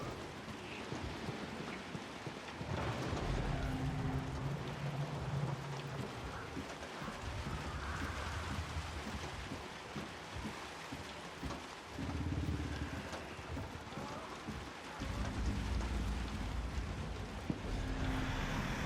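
Heavy rain in a video game, a continuous dense hiss of rainfall with low rumbling swells and faint distant thunder, steady throughout with no talking.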